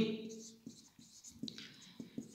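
A pen scratches across paper as a sphere math solution is written out, in short strokes and taps, close and quiet, with a voice speaking softly in the background.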